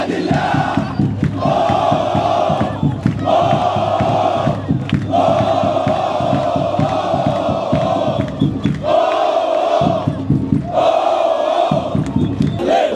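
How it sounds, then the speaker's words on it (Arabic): Al Ahly football fans chant in rhythmic bursts from the stadium stands, a dense roaring crowd repeating phrases with brief drops between surges, loud and continuous. "تعالوا نشوف الجمهور مع بعض."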